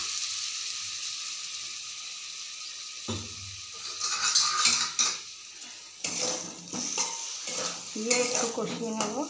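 A spoon stirs masala in a pan with yogurt, Kashmiri and red chili powder and salt as it fries, scraping and clinking against the metal over a soft steady sizzle, with louder bursts of stirring toward the end.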